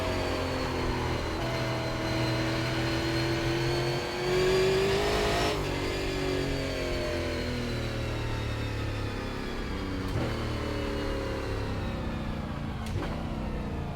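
Super late model race car in the iRacing sim, engine holding a steady high-pitched drone with rising and falling revs and shifting harmonics, loud and close throughout, no voices.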